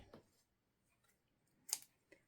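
Faint, sparse clicks and a sharp snip of scissors being handled, with quiet gaps between them.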